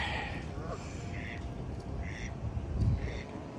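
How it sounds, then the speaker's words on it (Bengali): Common domestic ducks at a park pond quack in short, nasal bursts, several calls spread across a few seconds at moderate distance, over low outdoor background noise and faint voices. "অনেক হাঁস, আমাদের দেশে পাতি হাঁস বলা যায়"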